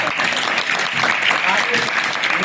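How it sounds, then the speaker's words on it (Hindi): A seated audience gives hearty applause for an honored guest, a thick, continuous wash of clapping that holds steady throughout. "आप इनका भी जोरदार ताली।"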